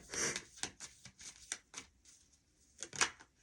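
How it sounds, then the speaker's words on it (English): Tarot cards shuffled by hand in a quiet room, a series of soft riffling bursts and quick slaps spread irregularly over a few seconds, close and fairly faint. "let me shuffle this up a little bit more"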